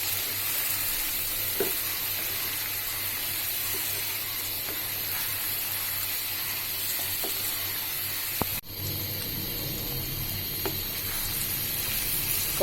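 Beef liver with spices sautéing and being stirred in a pan, a continuous close hiss and sizzle with occasional scraping clicks and a brief clatter near the end.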